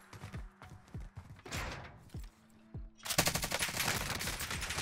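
Rapid automatic gunfire from a Stoner 63 rifle in Call of Duty Cold War Warzone, heard as short repeated bursts that give way to a loud, dense, sustained volley in the final seconds.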